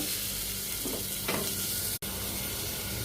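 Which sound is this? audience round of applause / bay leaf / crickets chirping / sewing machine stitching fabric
bay leaf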